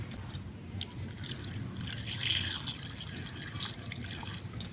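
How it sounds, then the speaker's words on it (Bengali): Water streams into a bowl of peeled potato skins, a steady close splashing pour with fluctuating gurgles and drips throughout. "আলুর খোসাগুলো এই বাটির মধ্যে নিয়ে নিলাম। এবার এতে জল দিয়ে দেবো।"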